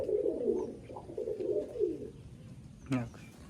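Pigeons coo nearby in a loft in South 24 Parganas, soft, throaty rolling calls that repeat for a couple of seconds, followed by a brief sharp sound.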